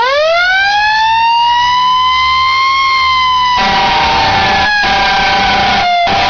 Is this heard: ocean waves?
no